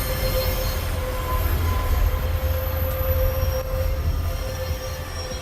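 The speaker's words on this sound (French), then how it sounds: "Par contre, il freine vraiment très mal le train." A train in the Roblox game brakes while pulling into a station, giving a continuous, fairly loud metallic squeal over a steady low rumble of rolling rail cars.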